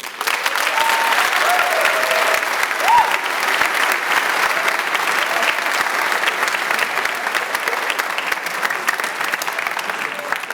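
A seated crowd at a senior honors night in a high school setting gives teachers a steady, full round of applause lasting about ten seconds, with a faint whistle or cheer rising briefly near the start.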